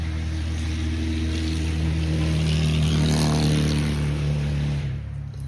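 A steady engine drone passes close by, holding loud for several seconds before easing off at the end, with a low hum throughout.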